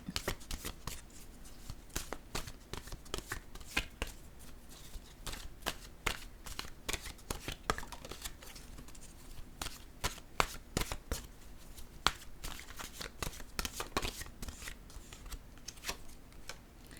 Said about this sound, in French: Je vais piger une carte, un message de l'univers.